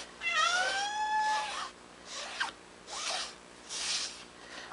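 A house cat meows to be let outside, a clear rising-and-falling cry near the start followed by three shorter meows spaced about a second apart, close and fairly loud in a quiet room.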